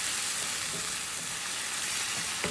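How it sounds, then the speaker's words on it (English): Steady, dense sizzling of food frying in a hot pan, continuous and fairly close, with no voices. "I'll leave it for a few seconds and let it fry like that."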